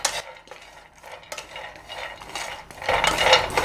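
Walnuts dry-roasting in a pan over a low flame for a dry fruit drink, with intermittent scraping and stirring of a metal spoon and soft rattling of nuts against the pan, close and moderately loud.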